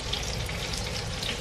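Lemon chicken browning in a frying pan, a short stretch of steady, even hissing sizzle, close and unbroken, with no talk.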